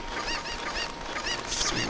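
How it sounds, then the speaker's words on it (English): Cuckoo chickens squawk in the video game Zelda Ocarina of Time (Master Quest) with a steady run of loud, honking, goose-like cries over a dense, continuous game background. "They're cuckoos, chickens, whatever."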